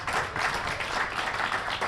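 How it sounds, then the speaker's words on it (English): Audience applause at a speaker series event, a short burst of steady, fairly dense clapping with no voices over it. "let's give a round of applause. Aaron Merriman, Montrell Teague, and Matt K"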